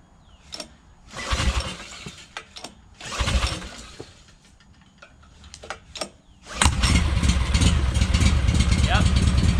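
A SCAG 52-inch hydrostatic lawn mower engine cranks in a few short attempts, then catches and runs steadily and loudly, with someone talking during the starting attempts.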